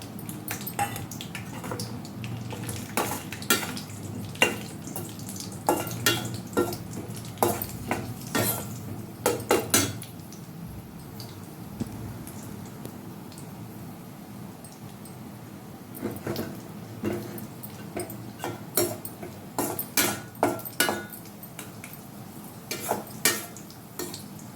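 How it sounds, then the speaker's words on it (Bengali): Cashews frying in a pan for festive fried rice, with a low continuous sizzle under frequent clinks and scrapes of a utensil against the pan in irregular bursts, close by, no talking. "এবার আমি কাজুটা ভেজে নেব।"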